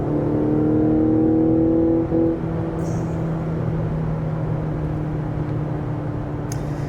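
A Mazda CX-90 plug-in hybrid SUV accelerates with a low, steady exhaust hum and drone from inside the cabin, easing off slightly after a couple of seconds, with no talking.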